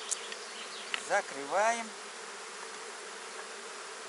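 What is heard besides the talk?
honey bees buzzing at hive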